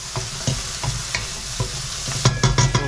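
Onion fries in oil in a pan with a steady close sizzle, broken by the scrape and clatter of a utensil stirring it, and the stirring grows busier toward the end.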